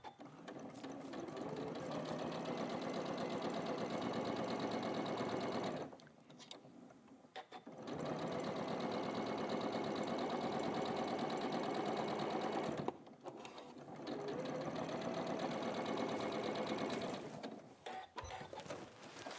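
A sewing machine stitches a slow, precise curve. Its steady mechanical whir runs in long bursts, stops briefly twice for pauses, then resumes. The sound is close and clear, with no talking.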